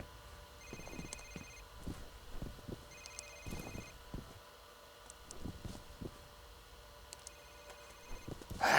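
A telephone ringing in the shooter game F.E.A.R., repeated electronic rings in short bursts at moderate distance, mixed with clicks and low in-game thuds.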